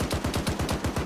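Rapid bursts of automatic gunfire in Arma 3, about a dozen sharp, evenly spaced shots in steady rhythm, loud and close with no talk.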